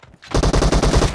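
Rapid burst of gunfire in the mobile shooter BGMI, a loud, fast string of repeated shots lasting about a second with no talk over it, though the sniper rifle is named as the source.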